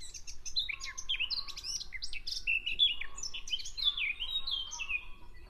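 A woodland-edge songbird sings a fast, varied, warbling phrase of bright tumbling notes, fairly faint and continuous over a low ambient rumble, with no voices.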